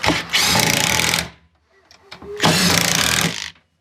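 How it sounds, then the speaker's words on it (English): An impact driver sinks screws into a cheap I-beam sawhorse in two loud bursts of whirring, hammering rattle, each about a second long, with a short quiet gap between them, heard up close. "We can take our impact and we can sink these screws in now."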